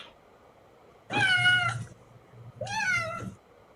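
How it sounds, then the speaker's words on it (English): Spaz, a cat in the 1995 Sierra CD-ROM game Phantasmagoria, gives two distinct meows about a second apart, fairly close and clear, over a low background hum. "Cat's name is Spaz."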